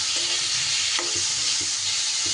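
Chopped vegetables frying in a small amount of oil, a dense, continuous sizzle with a few soft stirring knocks, close and steady, no talking.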